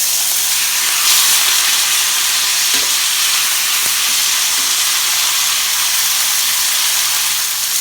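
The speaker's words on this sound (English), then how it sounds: "we're going to flip it one more time" A steak sears in a pan over near-high heat, sending up a loud, continuous, hissing sizzle that fills the whole stretch, broken only by a couple of faint taps, with no one speaking.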